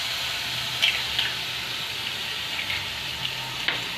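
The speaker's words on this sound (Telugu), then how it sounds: "తర్వాత అల్లం వెల్లుల్లి పేస్ట్ నిలవలో మరిగేలాగా ఉంచుకోవాలి." Ginger garlic paste fries in hot oil with a steady broad sizzle, a few louder pops and spatters rising briefly above it, close and continuous with no talking.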